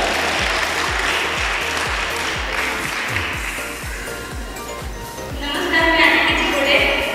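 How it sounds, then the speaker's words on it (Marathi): Audience applause at a live housewives' contest show: steady, rhythmic clapping from a crowd, fairly loud and continuous throughout, swelling a little louder near the end. "जोरदार टाळ्या."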